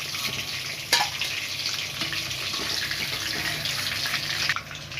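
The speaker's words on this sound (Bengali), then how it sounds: "বাদ বাকি বলগুলো এরকমভাবে ভেজে নেব ওই তেলের মধ্যেই" Chicken balls fry in hot oil in a pan, a soft steady sizzle and crackle with one brief sharp clatter, fairly quiet and with no talking.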